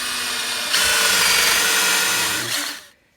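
A power drill bores vertically into wood for a dowel rod on a fan-powered car project, a steady close whirring that rises as the bit bites in, holds for about two seconds, then winds down and stops.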